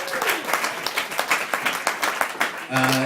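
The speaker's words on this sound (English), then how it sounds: "once again, big round of applause" A comedy club audience applauds a comedian with dense, steady clapping and crowd noise, fairly loud and close, before a host's voice comes in at the end.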